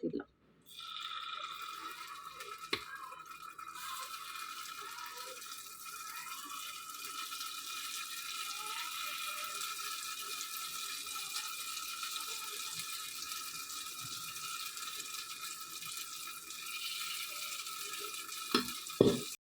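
Kuzhi paniyaram batter made from leftover idli batter sizzles and fries steadily in the pan, a soft continuous crackle with occasional clicks, and a voice speaks over it.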